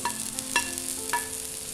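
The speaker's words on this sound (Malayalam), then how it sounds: "വീണ്ടും നന്നായിട്ട് ഇളക്കി കൊടുക്കുക." A spoon scrapes and stirs bread upma with tomato and coriander leaves in a hot pan, making three distinct scraping strokes over a soft, steady sizzle.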